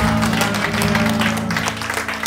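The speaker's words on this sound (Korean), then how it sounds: "박수 올려드립니다" Applause rises in a Sunday church worship service, a broad mass of clapping from the congregation over a sustained low instrumental hum.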